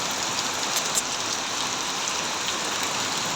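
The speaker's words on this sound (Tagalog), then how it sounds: "Lakas ng ulan eh." Heavy rain pours down in a dense, steady hiss of drops striking surfaces, loud and unbroken throughout with no voices.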